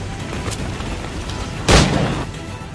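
Gunfire from the Assassin's Creed IV Black Flag video game. A faint shot comes early, then one loud, sharp blast near the middle over a steady background rumble.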